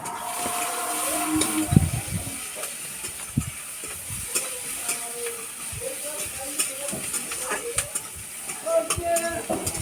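Fish curry cooking in a pan, with scraping stirs and a steady sizzle and hiss, broken by clinks and knocks, while faint voices murmur in the background.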